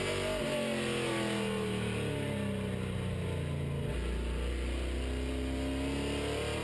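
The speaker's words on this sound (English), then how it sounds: "Let's jump on board with Mark Plur and listen to that engine for just a moment." The number 54 race car's engine struggles for revs, giving a steady, close, droning tone whose pitch sags and shifts partway through, with no talk over it.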